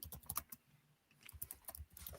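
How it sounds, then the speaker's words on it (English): Typing on a computer keyboard: irregular flurries of clicking keystrokes with a short lull in the middle, fairly faint and close. "Pardon my typing."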